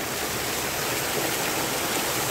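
Water running out of a hill lake (Bhulla Tal, Lansdowne, Uttarakhand) makes a steady, broad rushing flow like a stream or small waterfall, continuous and fairly close, with no voices.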